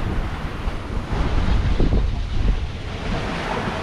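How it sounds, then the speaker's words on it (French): Steady wind buffeting over the rush of ocean swell and waves while sailing in the Grenadines, a continuous roar with gentle surges, no voices. "La houle est revenue. Le vent aussi."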